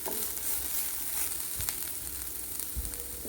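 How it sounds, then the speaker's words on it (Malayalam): Ingredients are sautéed in coconut oil for an anchovy fish peera, giving a continuous soft sizzle with a few scattered pops and spoon scrapes, fairly quiet and with no voices. "വെളിച്ചെണ്ണ ഒഴിച്ചിട്ട് അതിൻ്റെ പച്ചമണം മാറുന്നത് വരെ ചെറുതായിട്ടൊന്ന് സോട്ട് ചെയ്ത് കൊടുക്കാം"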